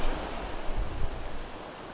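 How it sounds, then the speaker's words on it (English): Ocean waves in Final Fantasy XIV, a soft, steady wash of surf with a gentle swell, heard alone without talk. "Oh, I can hear the ocean."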